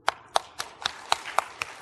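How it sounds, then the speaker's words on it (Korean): A congregation at a Sunday church service claps in a brief, evenly spaced series of about seven sharp handclaps inside the sanctuary. "박수."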